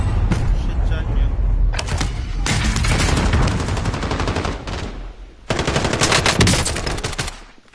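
Sustained video game gunfire in a tactical team shooter, dense automatic bursts rattling loudly almost without pause, with a brief dip before another heavy volley; a voice talks over the shooting.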